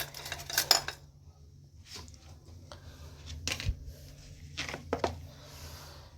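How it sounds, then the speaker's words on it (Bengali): Metal puja utensils and pots are lifted out and handled indoors, giving sharp clangs and clinks in a few clustered bursts with quieter rattling in between, close and without talking. "পুজোর বাসন কুসনগুলো বের করে সব জিনিসপত্র একটু গুছিয়ে রাখবো"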